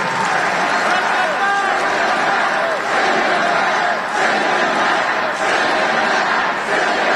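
A dense, loud crowd at a Trump rally chants "send them back" in repeated, rhythmic bursts, the massed voices filling the space continuously with swells of cheering in between.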